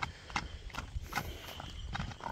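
A two-year-old horse walking, its hooves clip-clopping in a steady, fairly close rhythm over a noisy outdoor background.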